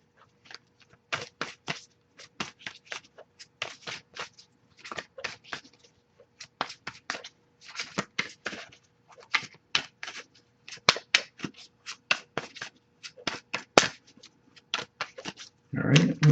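Rapid, irregular papery riffles and taps come in clustered bursts with short gaps, close and fairly quiet, as cards are shuffled by hand for a tarot reading.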